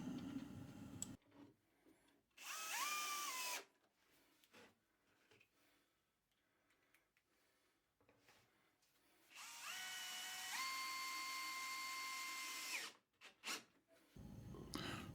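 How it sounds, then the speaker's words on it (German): A wooden workpiece is screwed onto a routing template for a bowl, with two separate bursts of a powered screwdriver, one short and one longer, each whining as it winds up, separated by quiet handling. "Jetzt kann ich mein Werkstück einfach ausrichten auf der Schablone und mit Schrauben festschrauben."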